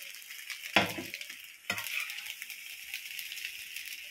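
Gobi fried rice fries in a pan with a soft continuous sizzle, broken by two sharp metallic clanks of a utensil against the pan, and the hiss carries on quietly afterward.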